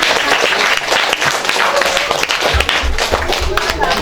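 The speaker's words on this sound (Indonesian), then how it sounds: "Tepuk tangan Mbak semuanya" Audience applause at a community ceremonial event in Polowijen, Malang, steady clapping from a gathered crowd, loud and continuous, with a voice speaking over it.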